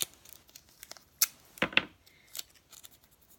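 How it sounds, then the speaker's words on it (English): Washi tape is pulled and torn close by during a paper crafting session, several sharp crackling rips and peeling sounds spaced apart over quiet. "I'm actually going to take some washi tape."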